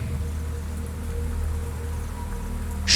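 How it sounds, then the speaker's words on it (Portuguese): Steady rain hisses evenly throughout, a continuous wash of drops with no voices and a brief brighter burst at the very end. "Chuva, né?"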